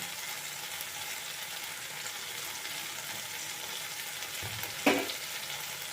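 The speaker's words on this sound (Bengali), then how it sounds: "লঙ্কাটা আমি এখানটাতে একটু ভাজা ভাজা করে নেব।" Dried red chilli frying in mustard oil in a pan, a steady close sizzle throughout with a brief sharper crackle or clatter near the end.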